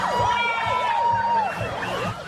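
Police car sirens wail, rising and falling in repeated sweeps over a rumbling crowd-like background, fairly loud and close.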